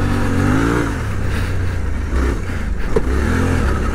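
Suzuki V-Strom 800DE adventure motorcycle pulling in second gear, a steady mid-pitched engine drone that rises and falls with throttle, loud and close over rushing wind, no talk.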